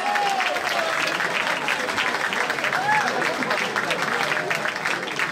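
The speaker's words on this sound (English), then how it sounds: "I'm gonna stand by making Aitana Ebony a round of applause" A crowd at a vogue ball bursts into sustained, dense applause with cheers and whoops, loud and continuous throughout.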